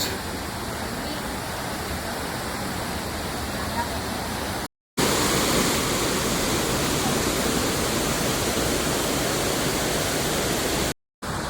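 Napne waterfall in Sindhudurg pours as a steady, loud broadband roar of falling water, continuous throughout apart from two brief cuts to silence.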